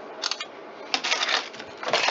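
LG Optimus F3 phone camera shutter firing in quick succession, three or four short crisp clicks close up, separated by brief pauses.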